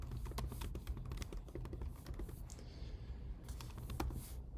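Rapid keyboard typing, a steady clatter of clicks up close with a brief pause midway before the keys resume.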